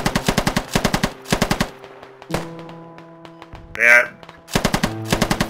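Bursts of rapid machine gun fire in a video game, several volleys of sharp repeated shots separated by pauses, with a short voice heard between them.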